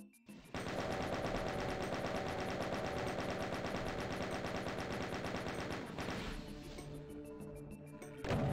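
Enemies in Doom 2 shoot at the player in one unbroken stream of rapid, loud gunfire that lasts several seconds, then breaks off into scattered hits and noise.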